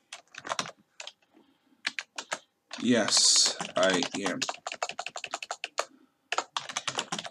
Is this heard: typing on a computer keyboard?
yes